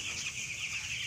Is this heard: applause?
no